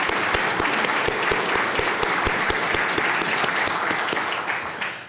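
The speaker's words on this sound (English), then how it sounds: "If we can just give them a round of applause for the good work." An audience at a health and medicine conference gives the planning committee a round of applause, steady and close, with individual claps standing out before the clapping fades at the end.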